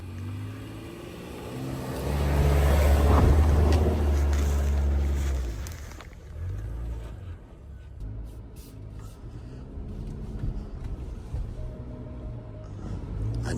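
A 2026 Mazda CX-5 climbs a steep, loose off-road hill, its engine swelling into a loud sustained drone before easing back to a lower, steady rumble with some rattling and wind, no talk.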